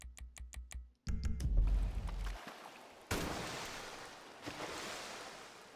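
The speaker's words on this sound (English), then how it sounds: "there will always be a waterfall that goes off" In the GTA 5 video game sewers, a quick series of gunshots aimed at a rat sets off a waterfall: a loud, sustained rush of falling water that surges in and then swells again partway through.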